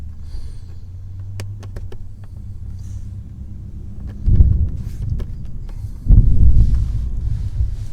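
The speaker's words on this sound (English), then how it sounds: "You hear the thunder?" Thunder rumbles low and deep in two heavy swells, the second longer, over a quieter background hum with a few scattered sharp clicks.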